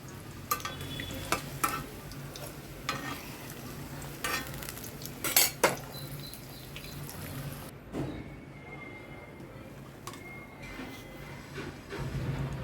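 Eggs fry in a pan for an egg and dried fish curry, with a continuous sizzle, spatula scrapes and clinks, and a brief louder clatter midway before the hiss quiets somewhat.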